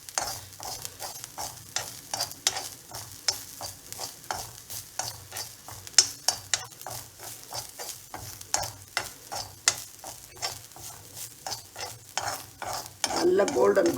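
Grated coconut stir-fried in a little oil in a pan until golden brown, with a spatula scraping in a steady rhythm of close scrapes over a soft sizzle, and louder frying toward the end.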